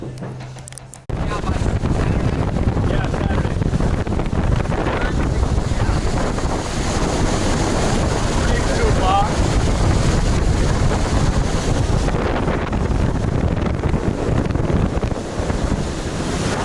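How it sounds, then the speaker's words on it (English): A boat ride across open water toward Hazel Creek, heavy wind buffeting the microphone over rushing waves and hull noise, loud and continuous after a brief quiet start. "we're about to get on our boat ride out to Hazel Creek."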